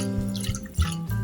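Water is sloshed and rinsed around inside a cooking pot on a stove while preparing goat curry, with a few short splashy surges and drips close by, alone without talk.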